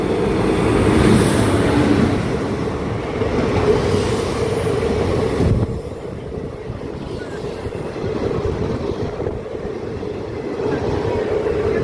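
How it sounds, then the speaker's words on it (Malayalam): A train passes close behind, giving a loud, steady rumble and clatter that dips briefly midway and then carries on. "നമ്മളുടെ പുറകിൽ ട്രെയിൻ വരുന്നുണ്ട്."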